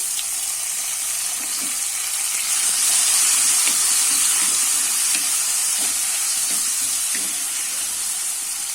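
Chopped tomatoes and green chillies sauté in hot oil in a pan for garlic rasam, making a steady loud sizzle and hiss throughout, with faint stirring scrapes beneath and no talk.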